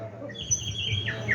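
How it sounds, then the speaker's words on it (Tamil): Asian koel calling in a Tamil village setting, rising whistled notes repeated over about a second, moderately near over a low background hum. "என்ன ஒரு அருமையான குயில் ஓசை."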